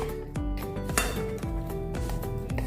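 A cooking pot and a metal sieve knock together while being set up to strain mango puree for aam papad, producing several close metallic clinks and scrapes over a steady tonal background.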